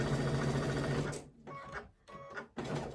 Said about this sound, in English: And then we are ready to sew.